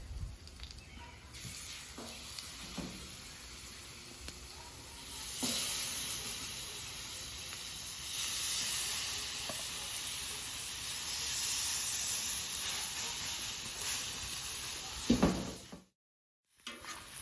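Pork chops sizzle on a Camp Chef flat top griddle, a steady loud hiss and crackle that swells midway and runs continuously before a short drop to silence near the end.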